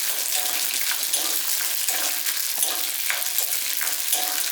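Rice frying in hot oil gives a steady, close crackling sizzle with dense bright hiss and scattered pops running unbroken throughout, no voices.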